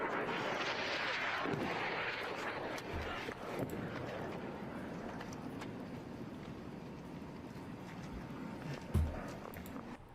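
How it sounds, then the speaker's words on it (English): Explosions and rocket fire in southern Israel come through as a faint, distant rumble, with a couple of dull booms thudding out of the low roar. "Massive explosion."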